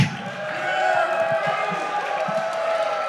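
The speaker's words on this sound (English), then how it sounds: "And you could just hear it from this crowd." At a 2019 Championship Wrestling From Arizona event, the wrestling crowd keeps up a continuous roar of cheering for a wrestler, with scattered claps and whoops as a voice talks over it.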